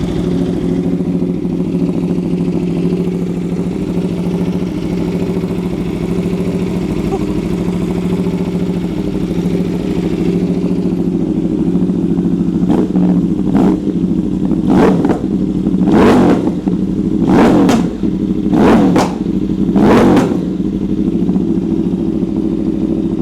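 An Aprilia RSV4 V4 superbike engine idles with a steady, deep burble, then is blipped into about six sharp, loud revs in quick succession, each rising and dropping back to idle, close up.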